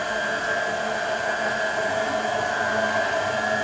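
Electric mixer blending flour and butter into shortcrust pastry dough for a pumpkin tart, a steady close whirring hum with a high tonal whine, constant and unbroken throughout.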